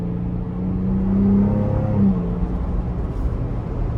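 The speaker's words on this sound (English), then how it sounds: "as you're going up the RPMs, it does like to redline if you give it just a little bit" Twin-turbo engine of a 2025 Ford Bronco Raptor revving up toward redline, a steady rising drone that swells louder in the middle and then eases back to a sustained rumble, close and continuous.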